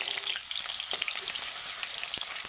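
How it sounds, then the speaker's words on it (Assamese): Onions sizzle and crackle in hot oil in a pan, a steady bright frying hiss with small pops, close and fairly quiet. "তেল গৰম হৈ গ'ল। ইয়াত এতিয়া মই পিঁয়াজ দিম।"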